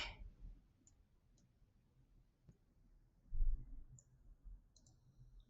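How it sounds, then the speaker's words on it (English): Computer mouse clicks while dragging a shape in a drawing program: a handful of sharp, sparse, close clicks spread out over quiet desk background, with one duller knock partway through. "So I'm clicking and dragging to move this shape where I need it."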